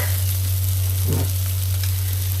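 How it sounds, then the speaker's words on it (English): Beef stock poured over softened onions sizzling in a pan for lamb's liver with bacon and onion, a steady close frying hiss with a brief gurgling splash as the liquid hits, continuing alone without talk. "now that the onions have softened a bit, I'm going to then add in the stock"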